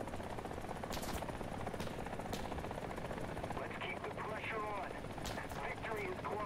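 Huey helicopter in a video game, a steady rotor throb filling the background under scattered gunfire cracks and a man's speech near the end.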